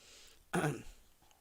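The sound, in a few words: throat clearing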